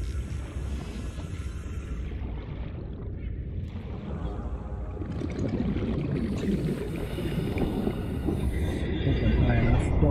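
A heat vent erupts underwater in the Subnautica video game, a dense, rushing rumble that builds steadily louder over several seconds with bubbling texture and no distinct speech.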